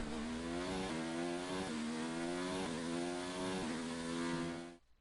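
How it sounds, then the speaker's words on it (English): A touring-car racing video game plays a car engine note. It is a steady, buzzing, harmonic drone that dips and rises again several times as the car shifts, then cuts off abruptly at the end. "I actually got an engine sound back"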